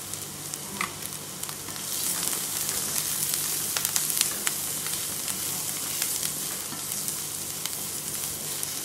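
Onions fry in hot oil with a pinch of turmeric, a steady dense sizzle running the whole time with scattered pops and crackles and a few stirring scrapes, close by and alone without any voice.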